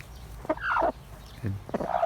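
A broody hen sitting on eggs makes a few low, throaty clucks and grumbling calls close by, short and irregular.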